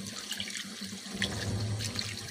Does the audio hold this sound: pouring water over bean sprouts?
yes